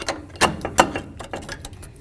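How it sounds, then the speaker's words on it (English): Brake pads being pried out of a Chevy S-10 front brake caliper, giving a few sharp metallic clicks and scrapes close by, with two louder clanks early on. "Let's remove the pads."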